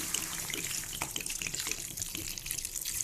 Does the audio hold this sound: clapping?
no